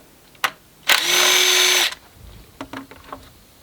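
A power tool spins up in one loud, sustained burst of about a second while backing a bolt out of a Nissan 370Z VQ37 engine, with short taps and clicks of loosening hardware before and after.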